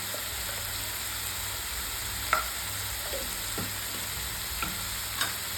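Steady sizzling of spices with turmeric frying in a pan for chole, with occasional scrapes and taps of a spoon stirring.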